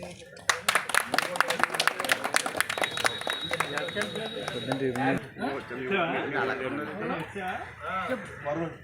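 Audience members at a YS Rajasekhara Reddy 75th birth anniversary celebration in Polavaram clap in a quick, ragged burst for several seconds, the claps then fading as voices and chanting take over.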